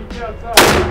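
A single sharp gunshot at an outdoor shooting range cracks out loud and close after some quiet background chatter, its broad blast ringing on briefly.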